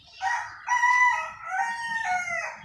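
A white rooster, newly bought at Patiya market, crows a long drawn-out cock-a-doodle-doo close by, alone and fairly clear against quiet surroundings.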